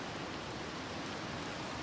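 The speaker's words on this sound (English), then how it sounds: "And we're being rained on again." Rain comes down on a campsite during a group backpacking trip in Linville Gorge, a dense, even hiss of drops with no gaps and no one speaking.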